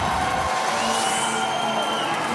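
Stadium crowd at a Legends Football League game between Chicago Bliss and Omaha Heart coming to life, a loud, steady roar of cheering that swells and holds for a couple of seconds.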